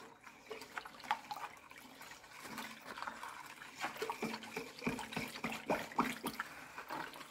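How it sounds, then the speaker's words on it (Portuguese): Baking soda being stirred into two litres of room-temperature water, giving light clinks and sloshing splashes in an irregular rhythm, close and fairly quiet, with no talk. "Vou dissolver aqui o bicarbonato."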